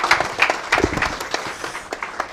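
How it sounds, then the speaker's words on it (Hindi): An audience at a gathering claps to welcome a guest, irregular hand claps rising in several bursts, fairly close and loud, then thinning toward the end. "ज़ोरदार तालियों की गूंज में इस्तकबाल करें"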